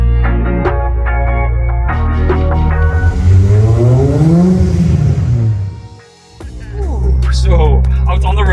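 A Honda EK9 Civic Type R with a naturally aspirated VTEC engine making 260 bhp, revving loudly and close: rising wails climb to a high scream, dip briefly, then rise again.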